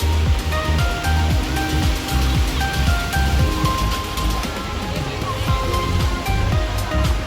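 Sea waves at a beach where people are bathing make a continuous rushing, churning wash with splashes, fairly loud and steady throughout.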